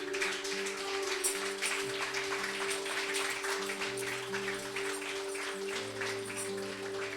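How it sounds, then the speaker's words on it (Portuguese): A church congregation claps in a dense, continuous patter that fills the room for several seconds, with sustained keyboard or organ chords held underneath. "Você pode aplaudir ele por isso?"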